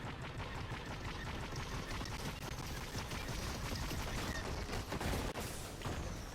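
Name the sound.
gunfire in a video game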